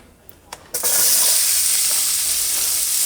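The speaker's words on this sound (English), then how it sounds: "Let that tallow simmer on there a little bit." Beef tallow simmering with vegetables in a hot pan, a few clicks and clatters giving way to a loud, steady, close sizzle that hisses on without talk.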